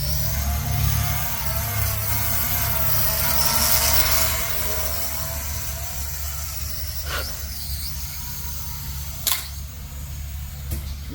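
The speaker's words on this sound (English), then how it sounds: "Let's not take off in the grass where we're acting as a lawnmower." The propellers of a Holy Stone HS440 drone whir and buzz steadily as it sits crashed in grass, cutting blades, with a couple of sharp ticks near the end.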